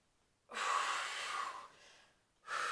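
Close, breathy exhalations: a long, loud breath out, a quieter tail, a short pause, then another strong breath begins.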